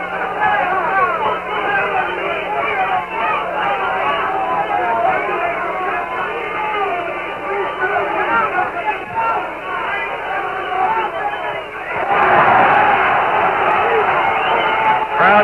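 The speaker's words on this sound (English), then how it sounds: "Crowd yells when there's a punch landed, even if it's not hard" During the seventh round of a boxing match, an arena crowd keeps up a steady roar of chatter and yelling, then a louder surge of shouts breaks out near the end as a punch lands.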